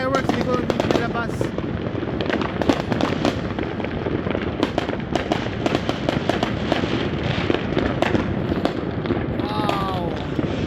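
New Year fireworks and firecrackers going off all around a house for 2025, a dense nonstop barrage of sharp crackles and pops, some near and loud, with people talking underneath.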